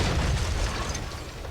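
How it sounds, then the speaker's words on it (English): A high-explosive shell blasts in World of Tanks around a WZ-111 heavy tank on the Dezful map, giving a dense, loud, rumbling boom that fills the whole short moment, close and heavy. "I noticed that they started firing HE at me"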